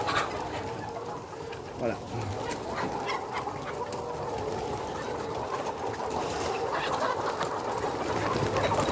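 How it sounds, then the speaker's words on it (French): Young hens (pullets) inside a henhouse give soft, scattered clucks and low chatter over a steady background hum. A person speaks briefly once. "Donc là c'est les poules, les poulettes"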